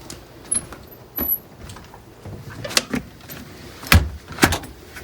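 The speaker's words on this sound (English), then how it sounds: "let me shut my door." A home door is pushed shut with a few thuds and clicks of the latch, scattered knocks and rattles spread across a few seconds, close by with no speech.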